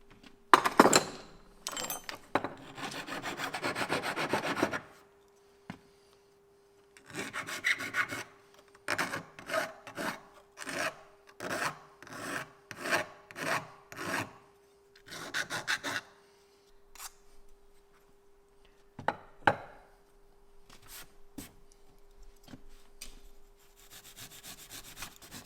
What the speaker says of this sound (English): let's just take a file to it, just get it roughly there